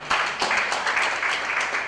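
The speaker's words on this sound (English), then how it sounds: "we have a big hand clap for that" An audience at a university women's dialogue event gives a big hand, rapid overlapping claps sustained at a moderate level with no voices over them.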